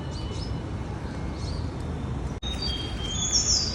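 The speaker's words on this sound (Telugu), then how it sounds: "ఎందుకో ఈ మధ్య ఎక్కువైనాయి పక్షులు." Birds chirp and call in a rooftop terrace garden during rain, bright high tweets scattered over a steady wash of rainfall, with a louder burst of chirping near the end.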